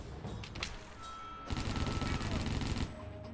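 Sniper gunfire in John Woo Presents Stranglehold: bursts of rapid shots crackle in two dense volleys, the second louder and sustained for over a second, over a busy game soundscape.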